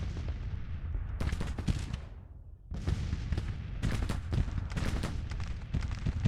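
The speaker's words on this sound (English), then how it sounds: "Now the Union right is also coming under heavy artillery fire too." Heavy artillery fire in a Civil War battle of the strategy game Grand Tactician, a dense rolling barrage of booming cannon shots in irregular bursts with one short lull, loud and continuous with no talk.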